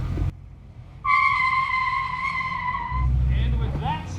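Race car tires squeal in a sustained high skid on an autocross course in a south paddock, distant but clear for about two seconds, then fading into low engine rumble and a brief voice.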